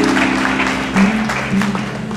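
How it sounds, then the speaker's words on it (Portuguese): Congregation at an evangelical church service in Piracicaba claps to praise the Lord, brief clapping over sustained music with a low held tone and voices. "Aplauda o Senhor"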